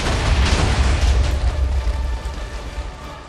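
A Minecraft explosion goes off as a deep, loud rumbling boom that rolls on and slowly fades over a few seconds.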